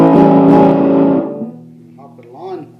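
An electric guitar plays through an overdrive pedal with its hot switch off, giving a strummed, mildly driven chord that rings and decays, followed by a few softer picked notes.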